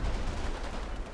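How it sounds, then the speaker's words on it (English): Small arms fire from a Combat Mission battle, a steady dense crackle of rifle and machine-gun shots running throughout, loud and close with no pauses and no voices. "Again, small arms fire."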